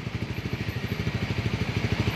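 A Honda Sonic fuel-injected 6-speed TOHC motorcycle with its stock exhaust hollowed out, idling close by with a rapid, even, throbbing pulse that grows slightly louder toward the end.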